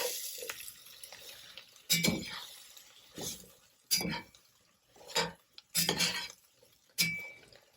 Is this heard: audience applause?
no